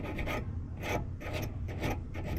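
File rasping across a winged pottery trimming blade to bevel the edge and remove burrs, in close, rhythmic back-and-forth strokes with no talking.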